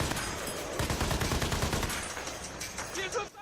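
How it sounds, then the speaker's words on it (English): Machine gun fire in the video game Battlefield: Bad Company 2, rapid bursts of shots rattling in a dense, steady stream, fairly loud for most of the clip before tapering off near the end. "What's my weapon? Machine gun? Good enough. Smoke those guys. Shoot her!"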